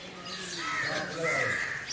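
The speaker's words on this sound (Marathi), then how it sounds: "सगळे कावळे या ठिकाणी जमतात" Several crows caw over a steady outdoor wash, their harsh calls overlapping near and far throughout, with a faint voice in the background.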